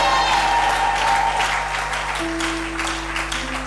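A Pentecost church congregation applauds a visiting pastor with steady, dense clapping that fills the room, holding at an even level throughout with no speech over it.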